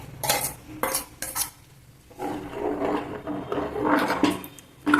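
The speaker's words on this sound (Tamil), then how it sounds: "அதையும் சேர்த்து எல்லாமா திளப்பிக்கிறது." Drumstick erissery in a pot is stirred after a ground paste of lentils, coconut, cumin and dried chillies goes in. A metal spoon clanks and scrapes against the pot in repeated close bursts, with no talk.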